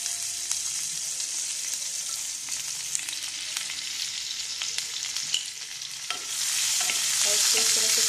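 Green chillies and cumin frying in hot oil while being stirred, a dense close crackling sizzle with repeated spoon scrapes that grows louder near the end.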